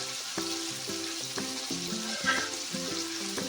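Dried red chillies, coriander and curry leaves fry in a pan for pudina chutney, a close, continuous crackling sizzle broken by irregular stirring clatters, without any speech.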